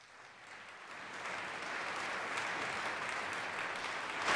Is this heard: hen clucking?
no